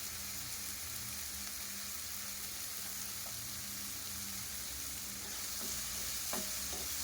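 Ground spice paste drops into a cluster bean curry frying in a pan, giving a steady soft sizzle with faint stirring scrapes and a few light clinks near the end, quiet and close with no voices.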